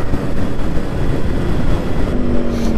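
A Yamaha RX 100 motorcycle engine pulls hard past 60–70 on the road, a loud continuous roar with wind rush that swells slightly toward the end.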